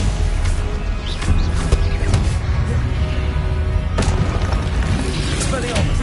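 A Stupefy spell strikes in Hogwarts Legacy, a dense booming blast layered over constant low rumble and busy game effects, with sharp crackling hits scattered through the six seconds.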